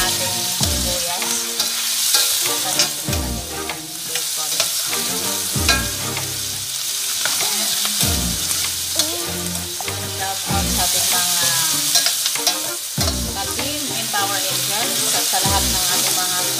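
Onions sizzle loudly in a pan for bacon adobo, a steady frying hiss with repeated stirring scrapes and clatters throughout.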